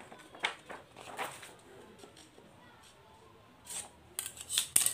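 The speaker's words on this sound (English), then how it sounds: "I have marked the place and now we will be cutting it." Scissors snip through paper being cut for handmade ancient-style paper, several short crisp cuts spaced irregularly, close and fairly quiet, with a denser cluster of snips near the end.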